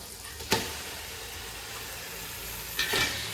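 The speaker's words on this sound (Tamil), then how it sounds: "இப்போ இது கூடவே வந்து நம்ம வாஷ் பண்ணி வச்சுருக்கிற சிக்கனை சேர்த்து நல்லா வதக்கிக்கலாம்" Chicken sautéing with masala in hot oil for biryani, a faint steady sizzle with two brief stirring scrapes near the start and end.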